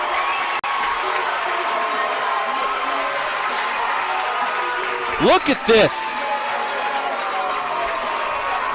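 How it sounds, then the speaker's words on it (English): Spectators at a Danville state semifinal softball game cheer and whoop after a home run ties the score, a broad crowd roar with a commentator talking over it and a few sharp shouts near the end. "Danville crowd is into it"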